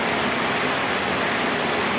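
Water rushing steadily at the intake of the La Reforma aqueduct, a loud continuous broadband roar close by, with no talking.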